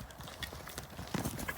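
A saddled horse moves along with quick, rhythmic clip-clopping hooves, fairly faint and steady with a slightly louder patch near the end, and no talk over it.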